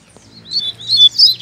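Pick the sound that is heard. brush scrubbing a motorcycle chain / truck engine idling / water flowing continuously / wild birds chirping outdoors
wild birds chirping outdoors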